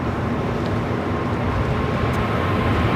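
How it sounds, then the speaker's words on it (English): A Japan Airlines Boeing 777-300ER takes off at LAX, a loud, steady, broadband jet-engine roar filling the whole moment with no talk. "This is Japan Airlines Flight 15 taking off to Tokyo Haneda on the 777-300ER"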